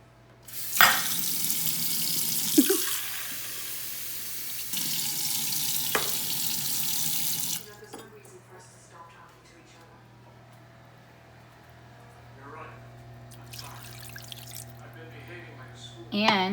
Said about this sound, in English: Now I'm gonna do 3/4 cup water.